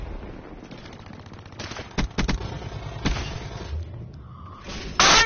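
Gunfire in the video game Black Ops, with several sharp bursts of shots popping over a steady background of game noise, ending in one loud close burst.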